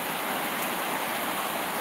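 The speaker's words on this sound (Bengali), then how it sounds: "বৃষ্টির এই শব্দগুলো টিনের চালে যখন পড়ে খুবই মিষ্টি এবং মধুর লাগে" Rain falling on a tin roof, a dense, even, close wash of patter and hiss with no gaps or pauses.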